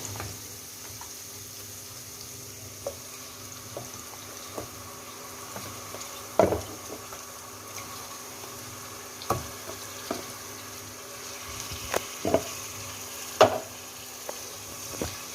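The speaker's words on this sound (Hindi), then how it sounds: "बकरे के गोश्त को हमने प्याज के साथ इस तरह फ्राई कर लेना है" Goat meat frying with onions in a pan gives a soft, steady sizzle, punctuated by occasional sharp clinks and scrapes of stirring against the pot.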